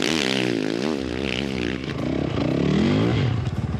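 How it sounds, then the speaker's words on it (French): Enduro motorcycle racing on the beach at the Enduropale du Touquet, with a loud, continuous engine drone rising and falling in pitch as the bikes rev and accelerate close by. "Il est en train de danser sur sa moto, l'autre."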